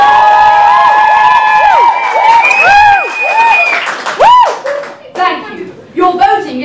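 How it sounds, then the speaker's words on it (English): An audience at a live comedy show claps and whoops loudly together, with high cheers and shrieks rising over the clapping before it breaks up into scattered calls near the end. "If you would like candidate 1 to go forward for the vacancy of Sarah, please applaud and whoop now."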